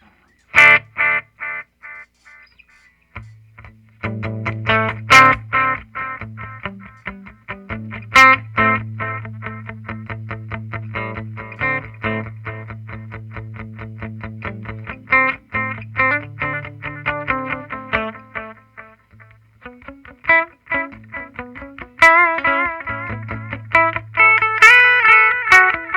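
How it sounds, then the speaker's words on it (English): Electric guitar played through a Donner Yellow Fall budget delay pedal, picked notes and chords trailed by repeating echoes, close and clear over about half a minute with no talking. "it has a nice, beautiful, echoey, almost a reverb sound to that"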